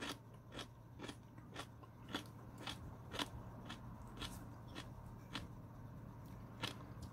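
Crisp, close bites and crunchy chewing of urui wild mountain vegetable dressed with chives and soy sauce, a dozen faint irregular crunches spread over several seconds with no talking.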